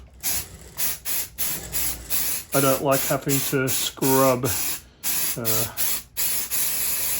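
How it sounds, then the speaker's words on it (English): Mold release sprayed into an Ultracal 30 plaster mold, repeated loud hissing bursts of aerosol in short pulses, with a person talking between and over the sprays. "So you can also use any mold release of your choosing. Just make sure you give it a good spray, good coat."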